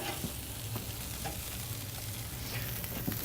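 A burger sizzles steadily on a grill at a burger grill house, with a continuous close hiss and a few faint clicks from cooking, and no voices.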